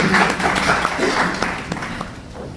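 An audience claps to welcome a guest joining a panel at a creators' conference, a moderate wash of scattered applause that thins and fades toward the end, with some voices underneath.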